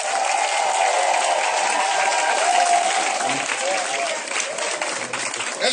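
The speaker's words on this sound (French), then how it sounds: "Est-ce qu'on peut acclamer Jésus de Nazareth?" Crowd at an open-air Christian crusade in Brabodougou applauding and cheering for Jesus, a steady dense roar of clapping and voices sustained throughout, loud and continuous without pause.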